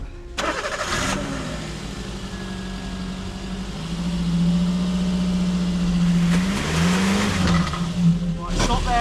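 A 27-year-old car with a worn, already ruined clutch struggles and spins its wheels in the cold and dark. A loud engine drones and revs unevenly over several seconds while a tyre whines, with bursts of noise near the start and end.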